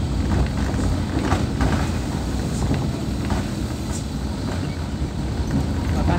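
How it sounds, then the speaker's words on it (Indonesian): Large cargo trucks rolling past on a damaged, patched road, a sustained heavy rumble with clattering knocks, close and steady, with a voice speaking over it at times. "Truk-truk kargo pun juga melewati jalan ini."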